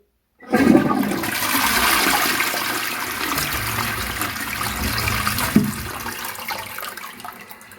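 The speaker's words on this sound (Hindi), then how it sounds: "अब हम इसे सिंपली फ्लश करेंगे।" A toilet is flushed after being left to soak with baking soda and laundry bleach, a sudden loud rush of water followed by a sustained gurgling drain and refill that continues to the end.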